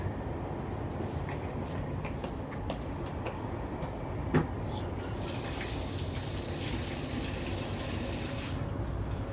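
Water is poured out on a small balcony, a steady rushing splash that continues throughout, with a single brief knock partway through.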